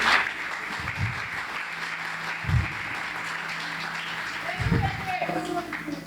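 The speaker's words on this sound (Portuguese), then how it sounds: "aplaudindo a Jesus nessa noite." Congregation applauding during an evening church service, a broad wash of clapping under a preacher's voice, with a few stronger bursts of applause swelling now and then.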